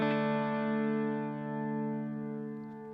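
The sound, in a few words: modulated reverb effect with delays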